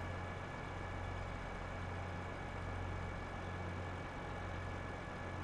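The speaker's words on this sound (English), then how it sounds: "I did start the engine." Tractor engine idling in Farming Simulator 22 during a harvest, a steady low droning hum that holds at an even level throughout with no talk over it.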